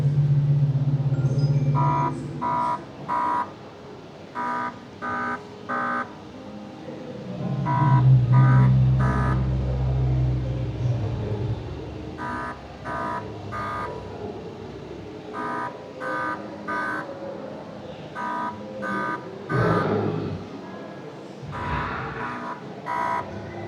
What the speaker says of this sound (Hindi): गलत चुनाव पे ये हॉर्न देता है